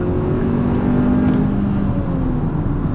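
A Hyundai Sonata The Edge turbo sedan accelerating, its engine drone steady and close with a rising tone, heard from the cabin under continuous road and tire rumble and no talk.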